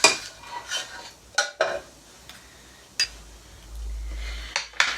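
Whole spices and peppercorns hit a hot pan with scattered crackles and pops, mixed with clinks and scrapes of a spoon against the pan, a series of sharp bursts over a low background.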